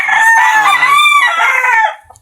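Several roosters (young stags) crowing in a backyard pen, a long loud close cock-a-doodle-doo with overlapping calls that trails off into quieter clucking.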